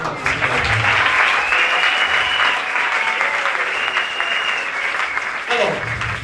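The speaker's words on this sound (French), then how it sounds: "Est-ce qu'on peut encore acclamer la musique?" A concert audience applauds in a large hall for Christian music, loud dense clapping sustained throughout with cheering, while a person speaks over it.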